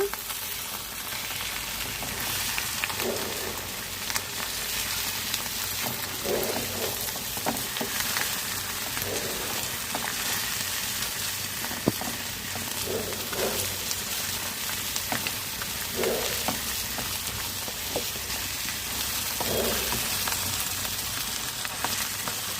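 China fish pieces sizzle and crackle steadily as they fry in a pan, a constant close hiss with occasional soft stirring or turning sounds and no talking.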